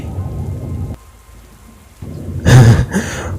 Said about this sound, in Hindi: और ये इतनी तेज बारिश कैसे?